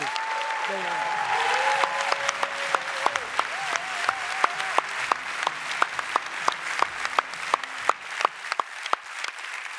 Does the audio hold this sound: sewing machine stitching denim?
no